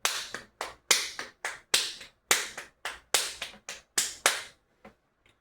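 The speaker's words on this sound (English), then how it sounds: "the pattern is 3 plus 3 plus 2. And you can hear that in the way that the claps are going." Flamenco hand claps, sharp, close and dry, beat out a steady 3+3+2 accent pattern in a quick run of about a dozen claps with no talk.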